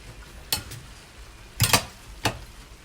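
Pancit made with glass noodles being stirred in a Saladmaster pan, giving three short scraping clinks of utensil on metal, spaced apart and close by, with no speech.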